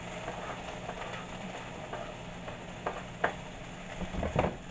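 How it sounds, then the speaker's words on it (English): Onions hitting hot olive oil in a pan give off a steady, moderate sizzle, with a few sharper clicks and scrapes near the end from stirring. "I'm going to put some olive oil in there. Throw our onions in."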